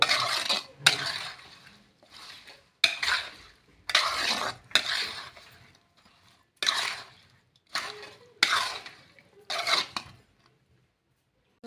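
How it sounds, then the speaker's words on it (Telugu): Mango pieces are tossed and mixed with pickle masala in a bowl, producing a series of close, crisp scraping and stirring strokes in uneven bursts separated by short pauses. "మామిడికాయ ముక్కలకి ఇది మొత్తం పట్టే విధంగా ఈ విధంగా కలుపుకోవాలి"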